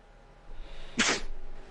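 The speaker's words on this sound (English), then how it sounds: "I got a sneeze coming up." A single sharp sneeze, close and fairly loud, preceded by a short breathy intake against quiet background noise.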